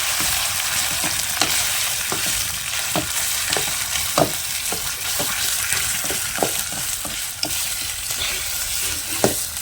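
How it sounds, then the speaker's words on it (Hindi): Boiled mustard greens stir-fried in a kadhai with a ladle in a village kitchen, a steady sizzle under frequent sharp scrapes and clinks of the ladle against the pan, close and fairly loud, no talking. "अब उबले हुए साग को हम कढ़ाई में डाल देंगे भुनने के लिए और इस करछी की मदद से कम 4 से 5 मिनट तक अच्छे से भून लेंगे"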